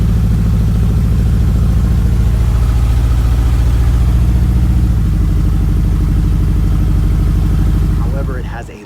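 A 1973 Ford Ranchero with a 351 Cleveland V8 runs steadily at idle, a loud, close, even low rumble that holds for several seconds before cutting off at the end, with a brief voice as it stops.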